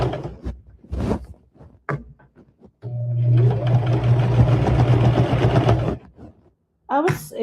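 Close sewing machine running steadily for about three seconds while a rag quilt is stitched, with talking before and after the run.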